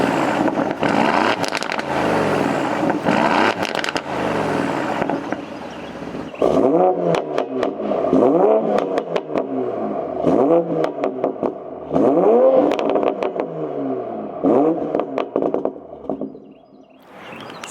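An Aston Martin Vantage or Toyota Supra exhaust revs up repeatedly in rising and falling bursts, with crackling pops between revs, loud and close.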